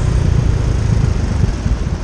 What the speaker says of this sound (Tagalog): dito ko nilabas yung motor, yung TMX